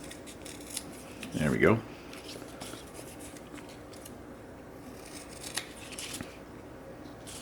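Scissors snip once to round the corners of a strip of kinesio tape during knee taping, a brief close burst followed by quiet rustling, with a voice speaking briefly.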